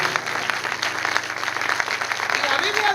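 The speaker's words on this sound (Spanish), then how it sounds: "Dale un aplauso al Señor." Church congregation applauding during a Spanish-language sermon, steady dense clapping throughout with a faint background voice or music underneath.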